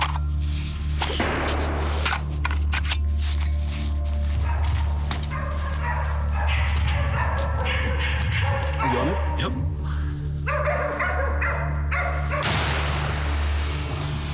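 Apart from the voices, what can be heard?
dogs barking during a hog hunt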